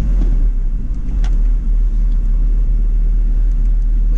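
A Volkswagen Saveiro pickup drives along with a steady, loud low engine rumble and road noise close by, holding constant without clear revving peaks.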